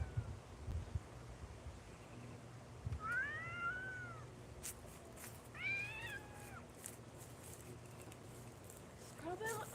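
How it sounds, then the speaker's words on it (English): A kitten meows in a few rising-falling calls spaced through the clip, fairly close, over a low background hum with faint household noise. "She is the swamp cat."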